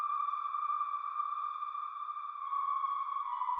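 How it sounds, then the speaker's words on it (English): A sustained synth pad preset named Jungle, drenched in heavy reverb, holds a smooth, steady tone with stacked harmonics for nearly four seconds, alone and at even loudness. "we're using this pad shot called Jungle, putting as much reverb as I can on this"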